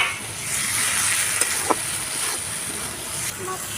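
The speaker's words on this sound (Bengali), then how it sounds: "আলুটা মশলাটা ভালো করে কষিয়ে নিয়ে" Potato and spice masala frying in a pan while being cooked down for jackfruit kofta, a steady broadband sizzle with a couple of brief scraping clicks, close and continuous.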